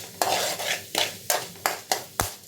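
Urad dal being roasted in a pan for tomato chutney: a steady run of about eight sharp scraping strokes as a spatula stirs the dry lentils against the pan, close and fairly loud, with no voice.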